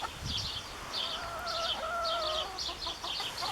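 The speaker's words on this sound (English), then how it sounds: "The neighbour's dog and my chickens are pretty interested in what's going on." Chickens cluck and call nearby in short repeated bursts, with a drawn-out tonal call in the middle and a faint background hiss.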